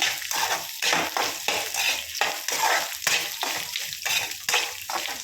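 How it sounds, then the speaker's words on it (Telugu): Cooked rice being stirred with salt in a hot pan for spicy rice, with repeated scraping strokes of a spoon in an uneven rhythm over a light sizzle, close up and without talk. "రైస్ వేసుకొని కొంచెం సరిపడా సాల్ట్ వేసుకొని ఒకసారి కలిపేసుకుందాం."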